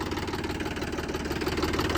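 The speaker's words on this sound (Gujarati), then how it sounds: "ફાઇનલી ટ્રેક્ટર ચાલુ થઈ ગયો છે" A tractor engine idles steadily up close, its low chugging pulse repeating evenly throughout with no voices over it.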